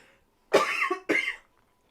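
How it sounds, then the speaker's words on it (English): Two sharp coughs close to the mic, one right after the other, then quiet. "I'm gonna cough."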